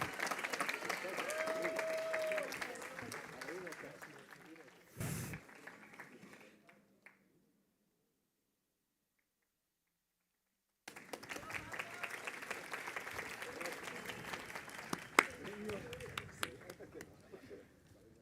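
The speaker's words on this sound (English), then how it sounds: "Big applause, please." An award ceremony audience claps for a Colombian entrepreneur in a broad burst that fades into silence before a second round of applause rises again with some voices.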